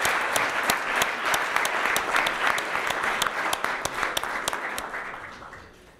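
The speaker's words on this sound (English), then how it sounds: "please, another wonderful round of applause for His Excellency." An audience at a philanthropy keynote event by His Excellency Atiku Abubakar gives sustained applause, dense clapping from a large crowd that holds steady and then fades out toward the end.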